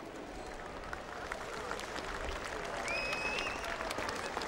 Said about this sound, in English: justified applause as well.